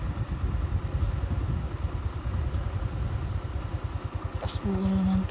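A motorcycle engine idling while standing in flood water during Typhoon Dante in Odiongan, Romblon, a steady low putter with rapid regular pulses, close and continuous, with faint background sounds.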